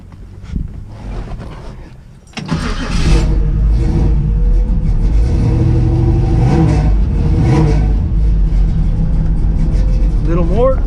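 1963 Chevy Nova engine starting up and running at a raised idle with revving, loud and close, with people talking over it.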